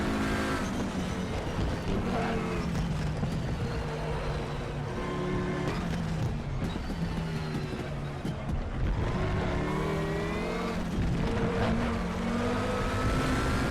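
An Audi TT RS race car driven hard around the Nordschleife in RaceRoom, its engine revving up through the gears and dropping on downshifts repeatedly, loud and close, with faint tire noise and no talking.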